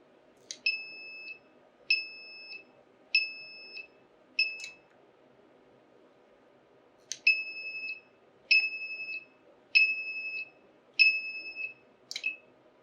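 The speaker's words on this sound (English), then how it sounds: "please pay attention to the alarm and IM120 device operation" Electronic alarm beeps from a BioStar 2 IM120 relay demonstration: two rapid series of sharp, clear double-tone bleeps in a steady rhythm, split by a short pause, over a low background hum.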